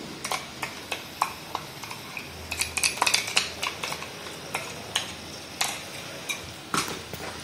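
A metal spoon clinks and taps repeatedly against a pan while ground spice paste is stirred into softened tomatoes for a mushroom gravy. The light, irregular strikes sit close and clear over a faint background hiss.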